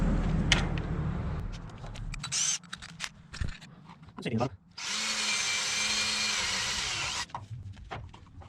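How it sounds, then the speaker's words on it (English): An electric drill whirs steadily for about two seconds, drilling a hole while installing trailer lights, close and loud, after some handling knocks and clatter. "And then just gonna drill another hole here."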